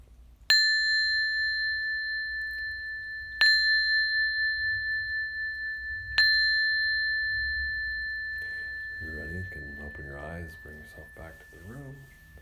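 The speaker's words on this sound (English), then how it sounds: "A few moments, I'll ring the bell." A meditation bell struck three times, each strike a clear pure ring that hangs and slowly fades, followed by a calm voice speaking.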